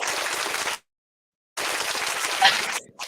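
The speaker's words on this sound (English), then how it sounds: "Adrianna earlier had requested some applause" Audience applause at an International Trumpet Guild conference session, a dense patter of clapping that stops abruptly, pauses in silence, then resumes just as strongly before trailing off.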